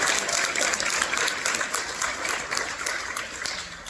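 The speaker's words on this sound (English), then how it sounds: "Give a round of applause for that." Audience applause at a civil liberties panel discussion, a dense steady clapping from a crowd that holds for the whole stretch with no talk over it.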